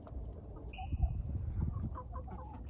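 Farm chickens cluck in a low, continuous murmur of short calls, moderately close, with one brief higher whistle-like tone partway through and no talking.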